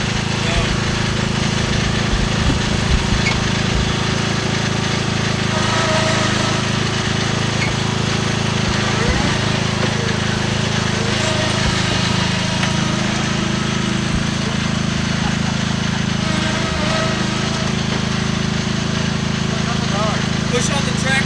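A lawn mower engine runs steadily throughout, a loud continuous drone with a low rumble and faint knocking, while people talk over it as someone tries to push the stuck mower.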